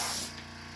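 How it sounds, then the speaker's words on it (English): Compressed air from a compressor hose blasting dust off an old cabinet door, a close, loud rush of hiss that eases slightly after the first moment and then holds steady. "as you can hear the compressor going, I'm just going to blow everything off"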